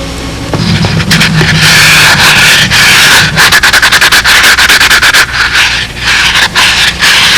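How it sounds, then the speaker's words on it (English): A sanding block rubs along the edge of a model Spitfire's turtle deck or tail parts in loud, close strokes, starting as a steady scrape and then breaking into fast, rhythmic back-and-forth passes. "I just take a sanding block and carefully dress that edge off."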